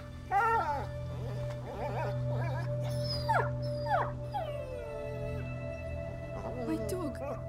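Dog whimpering and yipping in the video game A Plague Tale: Innocence, a series of high, wavering whines and short cries under a steady low drone, fairly near, with voices speaking between them.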